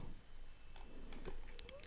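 Scattered light clicks of computer keyboard typing during an OpenStack project setup, a few quiet keystrokes over a low background hum.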